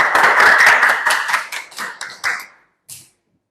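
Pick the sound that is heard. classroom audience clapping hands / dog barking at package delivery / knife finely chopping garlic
classroom audience clapping hands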